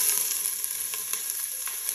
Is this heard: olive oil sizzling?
yes